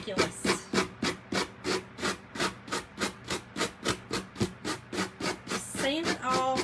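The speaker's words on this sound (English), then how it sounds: "Sand it off, and y'all, it comes off perfect." Rhythmic back-and-forth sanding strokes rubbing an edge smooth, steady scratchy passes repeating about every third of a second, close and fairly loud, with no talking over them.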